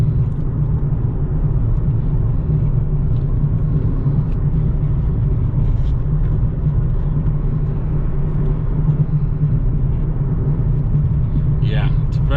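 A 2015 Nissan 370Z Base Coupe with a seven-speed automatic hums with a steady low engine and road rumble from inside the cabin while driving, continuous and even throughout.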